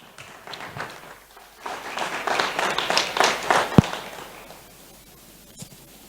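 A burst of audience applause at a talk swells for a few seconds, with scattered claps and a sharp tap, then fades to quiet.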